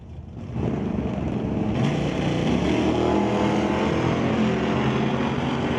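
A 1978 Camaro Z28 and a 1978 Malibu at a Super Pro drag race give a loud, sustained engine roar that rises quickly at the start and holds steady, heard alone without talking.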